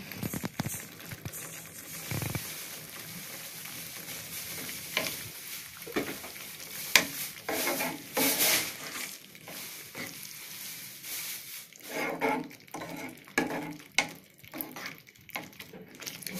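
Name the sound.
tomato thokku boiling and frying in oil, being stirred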